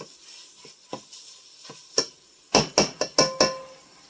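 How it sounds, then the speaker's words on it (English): A spoon knocks and scrapes against a Dutch oven while ground beef is mashed, giving a series of sharp metallic taps that grow louder and closer together toward the end. "You're going to continue to mash the ground beef until you feel it's the consistency that you like."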